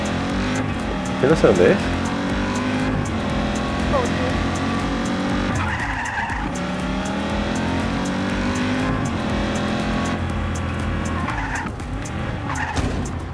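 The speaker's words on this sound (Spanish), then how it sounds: "derrapamos" A car in Just Cause 3 skids with sustained tire squeal and a revving engine, loud and continuous throughout, while someone talks over it.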